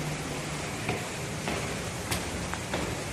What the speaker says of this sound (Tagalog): Lakas pa naman ng ulan.